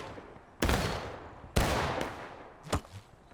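Muskets fire in volleys in the Civil War game War of Rights, two sharp loud crackling salvos a second apart, each with a rolling tail, then a lone later shot.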